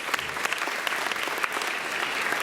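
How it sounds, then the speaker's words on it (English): Parents in a school audience at an elementary first-grade music showcase clap steadily, a close, crisp burst of applause lasting a couple of seconds. "I think that's a perfect time for applause"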